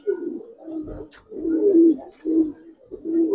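Giribaz pigeons cooing in repeated low, throaty phrases, close by, with a brief flutter of movement between calls and no talking.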